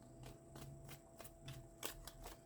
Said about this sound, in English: I'm gonna use these oracle cards and see what I see.